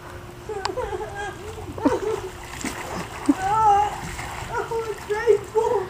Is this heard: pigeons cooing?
no